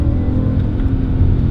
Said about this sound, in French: Alors je vais aller en Sport Plus manuel. Et là tu vas pouvoir entendre un peu.